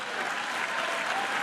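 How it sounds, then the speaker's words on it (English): An audience at the White House Correspondents' Dinner applauds, a dense, steady wash of clapping from a large crowd filling the room, with no voices over it. "50 years of SNL, we can applaud for a moment."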